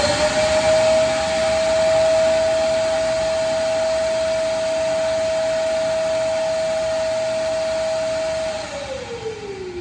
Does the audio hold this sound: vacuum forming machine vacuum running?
yes